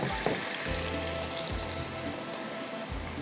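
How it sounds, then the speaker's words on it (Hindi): Chicken pieces for smoky chilli chicken fry in a hot pan with a constant broad sizzle, broken by a few dull low knocks at roughly even intervals. "सबसे पहले चिकन पहले डालेंगे ताकि चिकन इतनी देर में फ्राई होगा"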